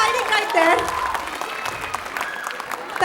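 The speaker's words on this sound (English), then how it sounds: "Can we have one round of applause for this wonderful sponsor who was hiding right there?" An audience at a dance academy's summer show claps for a sponsor, a brief, moderately loud burst of applause heard under someone speaking over a microphone.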